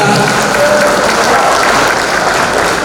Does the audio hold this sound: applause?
yes